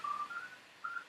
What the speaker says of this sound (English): We were whistling here, folks. We were whistling at me inside my studio.